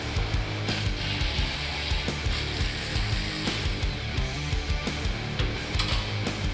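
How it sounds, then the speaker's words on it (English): Rapid metallic ratchet clicking from wrench work while an ICON lift kit goes onto a 2017 Ford F-150 EcoBoost in a shop, steady and close, with repeated bursts and clanks throughout and no talking. "get this thing over to the lift and start wrenching"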